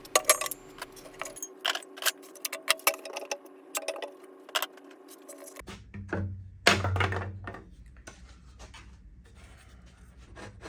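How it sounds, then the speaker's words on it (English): Clamps being popped off a glued wooden town hall sign: a series of sharp metallic clicks, taps and clunks with pauses between them, then a couple of heavier thuds and handling rustles. "Coming back the next day and popping off those clamps is always so satisfying."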